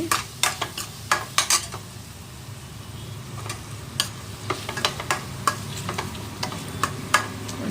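A paste of ground coconut, coriander leaves and garlic frying gently on a low flame, with a steady soft sizzle and frequent sharp scrapes and clinks of a spoon stirring the pan.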